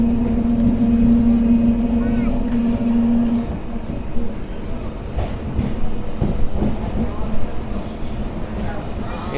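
A MEMU passenger train rumbles at Tanuku railway station, a loud, steady low drone with a sustained tone that fades partway through, then clanks and rattles, under a busy platform with people talking.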